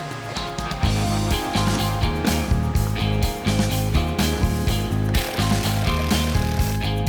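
Stainless steel screws being driven into small L brackets on a fibreglass canoe seat, the drill's steady ratcheting whir running close and loud in repeated bursts with brief pauses between.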